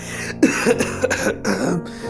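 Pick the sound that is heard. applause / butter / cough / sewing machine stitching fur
cough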